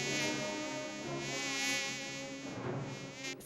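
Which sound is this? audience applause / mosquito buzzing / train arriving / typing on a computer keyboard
mosquito buzzing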